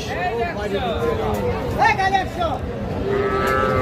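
A young bull calf moos loudly and repeatedly at a busy cattle market, its drawn-out bellowing calls rising and falling over a steady murmur of crowd chatter and nearby voices.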